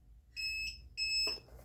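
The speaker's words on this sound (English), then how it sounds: "You will need to press set until you hear the 2 beeping sounds." Two separate electronic beeps from a garage door motor's control panel, each a short bright tone with a pause between, close and clear over quiet background.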